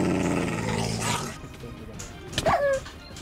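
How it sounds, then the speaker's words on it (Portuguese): A dog in a Minecraft game growls and snarls briefly while attacking, followed by a short whimpering yelp, heard faintly under background game noise. "O cachorrinho tá me batendo"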